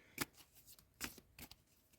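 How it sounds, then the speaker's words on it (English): A deck of reading cards is shuffled by hand in a few quick, separate bursts of papery riffling and snapping, close and fairly quiet, with no talking. "Let's give these a good shuffle up"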